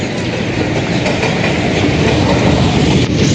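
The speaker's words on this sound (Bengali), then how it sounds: "তো একটা ট্রেন হচ্ছে এখন ঢুকলো এদিকে যাচ্ছে" A train rolls into a railway station at platform two: a loud, close, continuous rumble with steady clickety-clack from the wheels and no voices.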